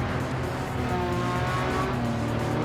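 Race car engine in Gran Turismo 7 on sports hard tyres, a steady loud droning roar with layered engine harmonics and shifting pitch, sustained throughout with no talk.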